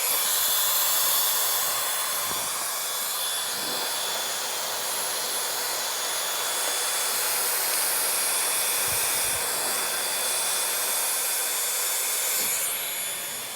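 A hair dryer on its lowest setting blows steadily on bangs, a continuous close airy roar with a constant whine, its whoosh shifting slightly as the airflow moves.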